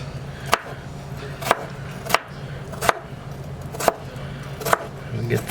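Knife chopping potatoes on a board, seven or so crisp, evenly spaced thunks about one second apart over a low background hum, close and clear, with no speech.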